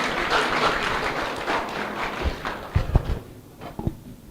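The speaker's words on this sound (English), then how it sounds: "Tumpatie a round of clap, jamani." University orientation audience applauding, a dense burst of clapping that thins and fades toward the end, leaving a few scattered thumps and taps.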